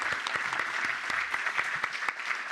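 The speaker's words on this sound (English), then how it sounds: "a round of applause to everybody who participated here today" Audience applause at a local development forum: a steady, dense clapping from a room full of participants, with sharp individual claps standing out throughout.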